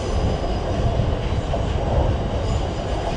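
A class 455/456 electric multiple unit rumbles through London Waterloo station, a close, continuous rolling roar with faint wheel squeal and clatter and no talk.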